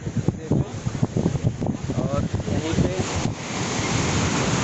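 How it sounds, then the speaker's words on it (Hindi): Strong surf rolls onto Marina Beach in Chennai at evening, a broad steady wash of breaking waves with wind buffeting the microphone, and a voice talks over it for the first part. "लहरें बहुत तेज आ रही हैं।"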